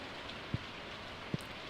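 Steady rain hissing in the farming game Stardew Valley, a continuous even wash with two brief low thumps standing out, no voices.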